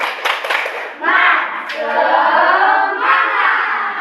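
Classroom group doing tepuk semangat, a rhythmic clapping chant: a few sharp claps, then voices chanting together in unison with a teacher leading, close and fairly loud.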